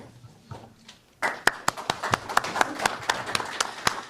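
An audience at a news conference about the sale of a State of Hawaii asset breaks into applause after a quiet moment, with a steady, full run of claps across the room.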